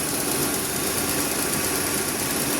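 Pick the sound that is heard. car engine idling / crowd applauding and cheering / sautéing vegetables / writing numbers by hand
car engine idling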